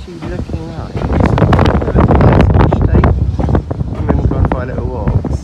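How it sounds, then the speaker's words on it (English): Gusty wind buffeting the microphone at the Great Central Railway heritage line on a windy day, a loud rumbling roar that swells and eases while a person speaks over it. "Even though it's windy today, it's actually looking nice."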